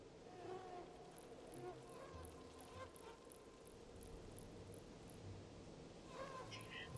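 Crickets chirp at night in a video game, a steady insect drone with regular pulsing chirps running throughout under a dense, noisy background.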